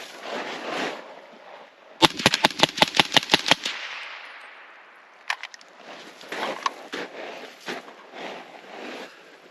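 Suppressed 300 Blackout PDW fires a rapid string of about nine close, sharp rounds in quick succession, followed by a few scattered single shots and clattering handling noises.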